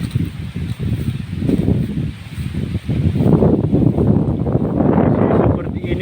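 Very strong wind gusts through a harvest area, a loud buffeting roar that rises and falls and batters the microphone, growing heavier in the second half.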